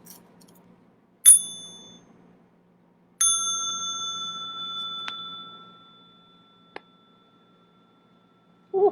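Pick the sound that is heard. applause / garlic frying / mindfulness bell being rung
mindfulness bell being rung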